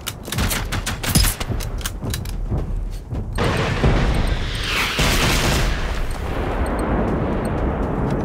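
EMP rockets in Generation Zero, first a rapid burst of sharp launching cracks, then booming explosions followed by a long rumbling roar with scattered crackles, loud and close.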